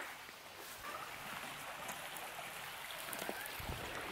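A river flowing during a family hike, a faint steady broadband rush of moving water with occasional small splashes and trickles and no clear speech.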